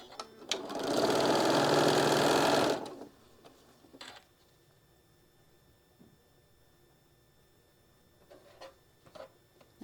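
A sewing machine stitches down a quilt block for a stained glass pattern in one steady, loud burst of about two and a half seconds, then stops, leaving faint handling clicks and rustles.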